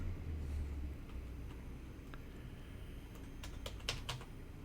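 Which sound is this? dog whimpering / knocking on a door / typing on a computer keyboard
typing on a computer keyboard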